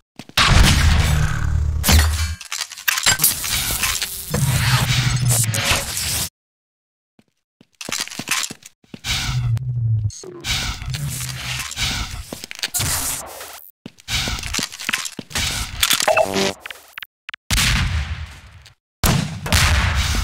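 Gunfire from a Half-Life 2 Deathmatch one-on-one match, loud bursts of shots with sharp impacts and breaking sounds, split by short silent gaps and resuming in clusters.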